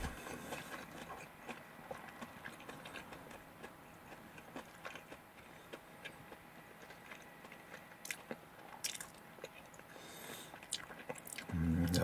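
Crispy breaded tonkatsu on katsudon from Tonkatsu Kokoro, with the cutlet left unsimmered in egg, is chewed close up, giving soft steady crunching and biting with occasional sharper crackles, faint and alone.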